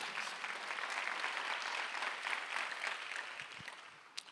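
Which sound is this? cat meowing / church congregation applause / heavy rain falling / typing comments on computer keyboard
church congregation applause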